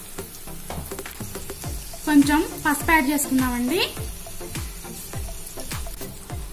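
Green chillies sizzling in hot oil in a pan while tempering for lemon rice, a steady crackling fry with clinks of a stirring spoon, and someone speaking over it in the middle.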